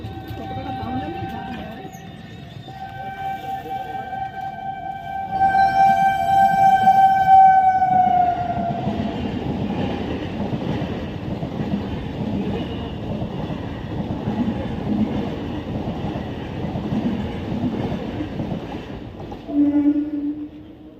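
A train pulls into a station platform on the route from Howrah to Nabadwip. A long, loud horn blast gives way to a steady rolling rumble of wheels and carriages, with people talking faintly in the background.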